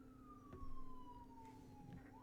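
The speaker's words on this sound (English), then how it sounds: "Y'all hear that siren?" A distant siren wails faintly, its pitch sliding slowly downward and then rising again, under a low hum of background noise.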